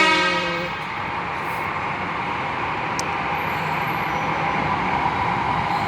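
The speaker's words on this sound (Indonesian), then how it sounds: "LRT-nya datang." A Palembang LRT light rail train arrives at the station, a loud steady rumble of wheels and motors with a brief horn tone at the start and a faint high squeal midway.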